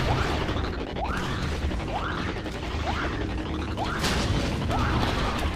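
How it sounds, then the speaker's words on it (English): Grenade explosions in the Star Wars Battlefront 2 game, dense continuous battle noise with repeated whooshing bursts about once a second, loud throughout. "I'm just throwing grenades because I don't really have a rocket or anything like that"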